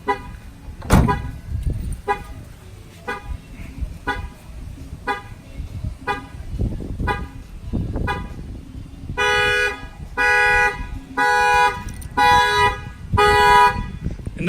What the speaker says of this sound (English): The alarm is gonna fire off.